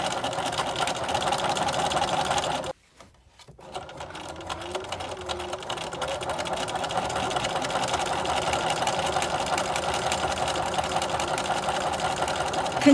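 Sewing machine chain piecing strips of quilt backing fabric with a half-inch seam allowance, a steady close mechanical whir that stops briefly and then resumes at a constant pace.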